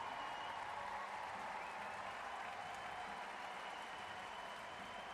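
A home crowd at the London 2012 Paralympic track cycling roars in steady, dense applause and cheering, loud and sustained throughout without a break.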